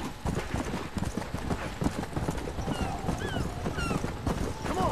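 Horse hooves clip-clop in a steady, continuous rhythm as a rider travels on horseback in the video game Red Dead Redemption, with faint whistling calls and ambient outdoor sounds running under the hoofbeats.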